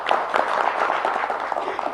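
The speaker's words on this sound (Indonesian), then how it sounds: "Tepuk tangan saya lagi, luar biasa" Brief burst of audience applause on a television talk segment, a dense steady patter of clapping throughout.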